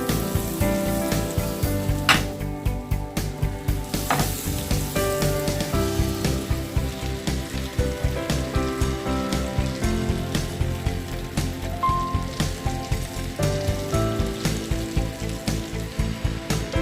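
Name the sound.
butter sizzling in a pan for frying chicken breast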